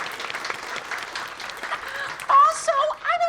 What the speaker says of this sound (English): Everyone applauds again.